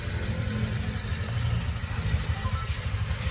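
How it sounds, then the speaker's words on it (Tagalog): Honda Click 150 scooter on its stock exhaust, idling in a shop with a steady, close, low engine hum and fast even pulsing that never revs. "muna tingog sa Honda Click 150 stock"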